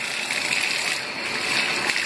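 Tap water runs steadily into a bathtub with a slow drain, a continuous close rushing splash that holds even for about two seconds with no talk.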